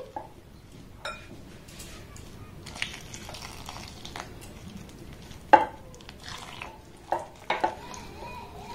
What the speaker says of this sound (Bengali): বাটির মাপ করে ডবল আমি গরম জল দিয়ে দেব